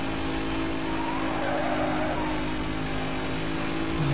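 In Need for Speed Most Wanted, a racing car engine roars loud and steady throughout, with a sustained high whine and some tire noise. No one talks over it.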